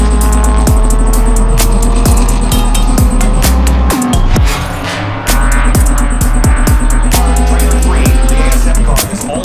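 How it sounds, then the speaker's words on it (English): A Subaru BRZ race car with an FA24 engine in GLTC trim at Gingerman Raceway, heard onboard as a loud, strained engine climbing through revs with sharp gear shifts and brief lifts. "We are here at Gridlife Gingerman Raceway, and we are racing my GLTC BRZ."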